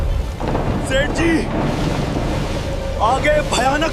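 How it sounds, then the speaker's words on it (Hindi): A dramatized thunderstorm at sea with a sailing boat: a continuous loud roar of wind, rain and thunder fills the scene while people shout over it. "आगे भयानक तूफान है, अब कोई नहीं बचेगा।"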